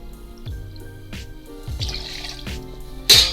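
Rittenhouse rye whiskey poured into a measuring jigger for a classic Sazerac, heard as a few close, soft trickles and drips followed by a brief louder splash at the end.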